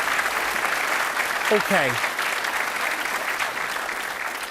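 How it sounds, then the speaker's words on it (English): Studio audience applause for guests on a BBC Belfast talk show, a dense burst of clapping that carries through the clip with a few brief spoken words over it. "give our guests a round of applause."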